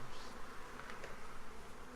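Honey bees buzz around a hive at Carmel Valley Ranch, a dense, steady drone with no break, fairly close and with no voices.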